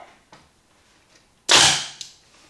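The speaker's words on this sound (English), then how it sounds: "Now we'll try to find out if we can really shoot 2 full magazines with one filling of the air tank." A single sharp, close pneumatic crack from an FX semi-automatic air rifle fires after a few faint clicks, decaying over half a second, followed by a small mechanical click.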